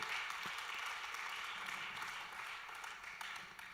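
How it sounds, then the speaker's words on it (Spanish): Steady, dense applause from a church congregation, sustained and fairly loud throughout with no talking over it. "Le da ese aplauso fuerte, como David, como Aarón."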